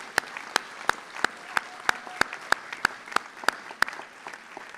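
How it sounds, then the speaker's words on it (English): Applause for graduates at a university commencement ceremony: a soft bed of crowd clapping, punctuated by loud, evenly spaced claps from one pair of hands close by, about three per second. "let's give a round of applause for our graduates from the School of Graduate"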